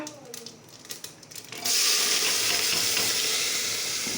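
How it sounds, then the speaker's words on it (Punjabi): Chopped onion drops into hot oil already tempered with cumin, for a vegetable curry, setting off a sudden loud, close sizzle that holds steady after a few quieter stirring clinks. "ਹੁਣ ਇਹ ਚ ਪਾਵਾਂਗੇ ਜੀ ਆਪਾਂ ਪਿਆਜ਼"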